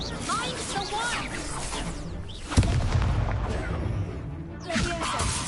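Spell blasts and whooshing magic bursts fill a Hogwarts video game duel, with booming impacts and a sharp crack midway, layered over continuous game sound and voices.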